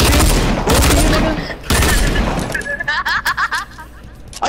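Rapid gunfire in Fortnite at Tilted Towers: loud bursts of automatic shots, then a string of quicker, separated shots, with a player's voice talking over the shooting.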